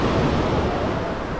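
Sea surf washes onto a crowded beach in Alushta, Crimea, as a loud, continuous broadband roar of breaking waves with wind buffeting the microphone.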